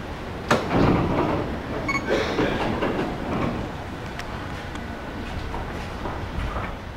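A Hankyu limited express train at Juso station rumbles and clatters along the platform at close range, with a steady rolling roar and a few sharp metallic knocks throughout.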